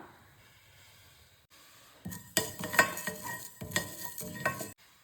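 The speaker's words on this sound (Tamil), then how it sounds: "இப்போ மல்லி போட்டு வறுத்துக்கலாம்" Coriander seeds dry-roast in a pan while a spoon stirs them, producing a run of close, bright scraping and clinking strokes over a faint rustle of seeds, with no talking.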